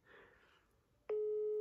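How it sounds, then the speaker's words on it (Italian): A telephone ringback tone on an unanswered call sounds as one steady electronic tone starting abruptly near the end, loud and sustained, after a faint stretch of quiet room noise. "Quarto squillo, niente."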